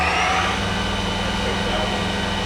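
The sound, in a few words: Yama Seiki vertical machining center spindle running at high RPM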